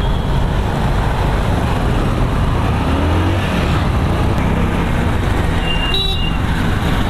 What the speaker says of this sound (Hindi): ट्रैफिक में खड़े हैं भाई, ट्रैफिक में